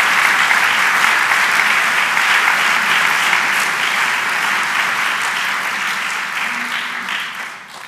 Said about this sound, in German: Ein Applaus für unsere neue Chordeband